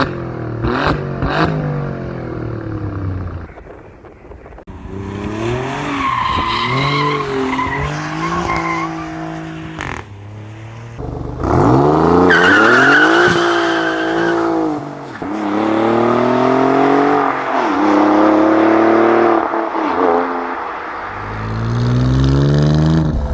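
Alfa Romeo's most powerful production engine revving hard past 7,000 RPM, loud rising and falling engine howls in repeated pulls, with sharp blips and sustained high-pitched wails close by.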